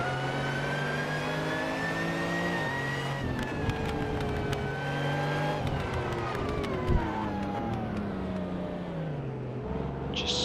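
A Lamborghini Diablo's engine drones and revs steadily in a Super GT racing game, a continuous mid-pitched tone rising and falling with gear changes, loud and close throughout with no talk.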